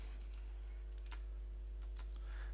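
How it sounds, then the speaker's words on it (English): Keystrokes on a computer keyboard tap in quick, uneven bursts over a steady low hum, fairly quiet and close, with no talking. "And we can start typing in here."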